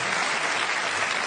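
Studio audience at an Australian television comedy panel show bursting into steady, loud applause, a dense sustained wash of many hands clapping with no voices on top.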